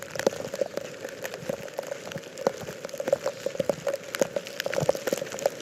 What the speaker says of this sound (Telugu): ఇది చూడండి ఎట్లా ప్రవహిస్తుందో